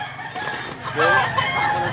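A White Ligin gamecock, a two-year-old rooster at a Cebu market, crows once loudly near the middle, its call rising and falling over a steady crowd murmur.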